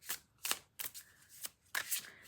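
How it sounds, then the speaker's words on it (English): Tarot and oracle cards being shuffled in five or six quick riffling bursts, each a brisk papery flutter with short pauses between, close and clear with no voices. "So they shuffle so nicely."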